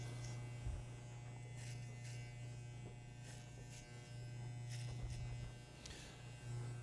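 Electric hair clippers buzz steadily and close up while cutting a man's buzzcut to a uniform 3/8 inch, with a constant low hum and brief louder bursts as the blade moves through hair.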